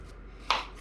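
A single crisp knife chop lands on a cutting board while ingredients are cut up for homemade meatballs, one short, close knock.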